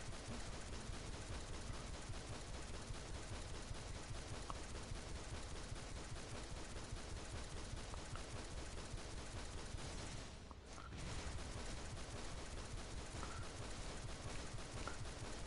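Dual pistols fire on full auto in the video game DC Universe Online, a dense, continuous rapid rattle of shots that holds steady throughout, with one brief dip near the end.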